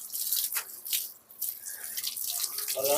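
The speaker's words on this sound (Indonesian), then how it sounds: "air yang mengalir" Tap water runs and splashes while laundry is rinsed by hand, an uneven gushing and dripping stream with surging bursts, close and alone without any talk.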